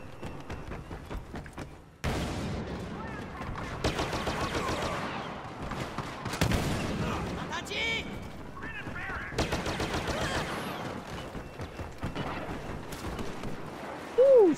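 Bursts of rapid video game gunfire in a superhero-versus-villain shooter match, loud and dense, with repeated volleys over roughly twelve seconds, ending in a short tonal swoop.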